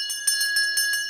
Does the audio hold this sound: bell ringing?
yes